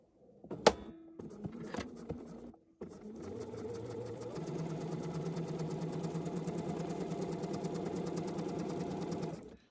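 A sewing machine stitches alongside a zipper, close to the metal teeth. A few short clicks and starts come first, then a steady, continuous close-up whir runs for about seven seconds.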